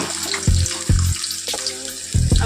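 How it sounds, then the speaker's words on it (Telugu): Pieces of chicken drop into a pot of boiling water in a home kitchen, giving four loud, close splashing plunges with bubbling water between them and no talking. "మరుగుతున్నాయి ఇక వాటర్ దించుకొని అందులో చికెన్ అయితే వేసుకుంటున్నా"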